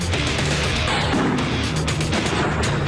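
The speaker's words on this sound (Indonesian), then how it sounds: "Rentetan tembakan pun diluncurkan Zionis Israel ke permukiman warga" A loud, dense barrage of gunfire from Israeli forces strikes a residential area in southern Lebanon. It comes as a continuous roar of rapid blasts and crackling.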